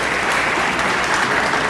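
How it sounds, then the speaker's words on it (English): Dense, loud applause from an audience at a police anniversary award ceremony, a steady wash of clapping throughout. "Let's have a loud round of applause."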